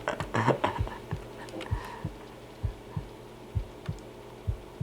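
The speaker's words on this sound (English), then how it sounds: "can hear a heartbeat" Game heartbeat in The Mummy, a deep regular thumping pulse, roughly two beats a second, steady and close, with a brief burst of other game noise at the start.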